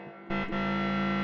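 Layered synth tone in Ableton with a distortion effect, a gritty sustained buzz that cuts in abruptly after a brief quiet start, with a short dip before holding steady and bright.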